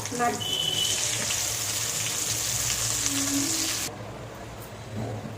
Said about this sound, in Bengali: তেলের মধ্যে এবার পেস্টটা দিয়ে দেবো।